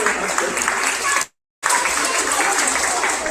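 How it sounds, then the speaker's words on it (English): Audience clapping for a police dog demonstration at a summer school graduation, a steady dense wash of applause broken by one brief silent gap before resuming. "Give it a round of applause."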